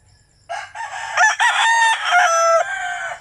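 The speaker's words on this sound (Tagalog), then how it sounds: "Tilaok na." A rooster crows loudly and close by, one long strained call with a rising and falling pitch against a quiet background.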